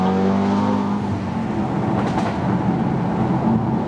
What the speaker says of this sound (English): Those DSG farts, they like shake the car, don't they?